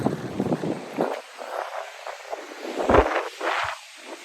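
Strong storm wind during a signal number 2 to 3 typhoon in the Philippines, gusting in uneven surges with rustling bursts, loudest near the end, with no talk over it.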